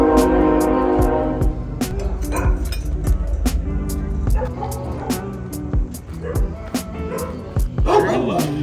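Several dogs barking, yipping and whimpering at the Austin Pets Alive animal shelter, repeated sharp barks close by and overlapping throughout, with people talking underneath.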